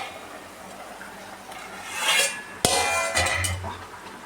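Metal clatters as a cooking pot lid is lifted off a potato and dried fish curry, with a sharp clank partway through and a brief scrape and rattle after it, close by.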